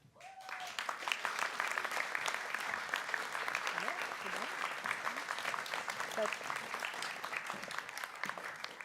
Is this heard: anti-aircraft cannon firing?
no